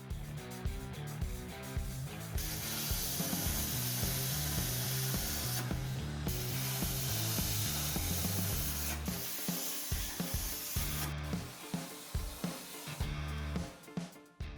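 Eastwood CNC 60 amp plasma cutter slicing through metal, a loud continuous hissing spray with gritty crackle and a few brief shifts and interruptions toward the end, close up with no talk.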